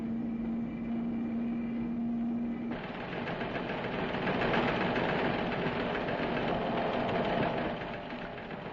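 Royal Marine landing craft engines drone steadily as they carry equipment ashore, a continuous low mechanical throb that grows rougher and denser partway through and then holds with no voices.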